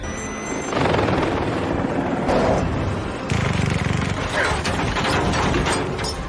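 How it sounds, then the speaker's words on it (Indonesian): A loud, dense mechanical roar with rapid rhythmic chopping and whirring of a helicopter in a Fast & Furious 8 chase scene, close by, mixed with clattering machinery. "Sebuah helikopter datang mengejarnya."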